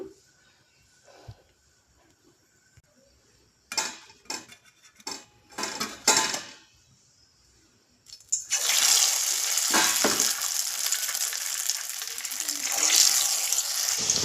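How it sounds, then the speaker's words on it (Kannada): Potato slices dipped in an egg batter and deep frying in oil, preceded by clinks and clatter of utensils, then a loud, dense, continuous bubbling hiss that fills the last half, close to the pan. "ಈ ರೀತಿ ಡಿಪ್ ಮಾಡಿಬಿಟ್ಟು ಆಯಿಲಲ್ಲಿ ಡೀಪ್ ಫ್ರೈ ಮಾಡ್ಕೋಬೇಕು"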